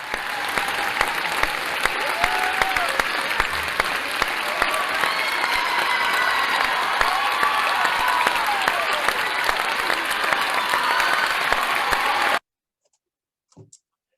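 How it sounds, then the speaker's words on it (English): Audience applauding at the official opening ceremony of a university summer school, a sustained dense clapping that holds steady for about twelve seconds, then cuts off into near silence with a faint brief sound at the end. "Thank you for applause."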